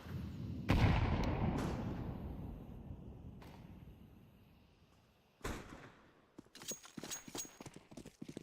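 A grenade blast in the video game Counter-Strike 2, a sharp loud boom followed by a long decaying rumble, then a second burst and scattered clattering impacts.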